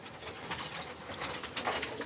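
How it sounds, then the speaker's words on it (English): Stock pigeons that don't lay eggs coo softly inside a pigeon loft, with a continuous rustling, breathy background and occasional wing movement close by. "These are stock birds that don't lay eggs."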